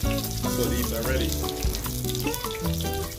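Jamaican saltfish fritters frying in hot oil, a bubbling sizzle running continuously under faint background sounds, close and moderately loud.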